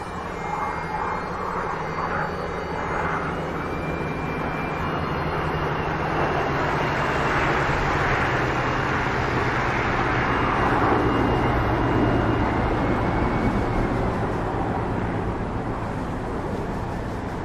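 Two World War II P-51B fighters flying in formation in a DCS air show simulation: a continuous loud propeller engine drone that swells slightly as the formation passes, with no talk.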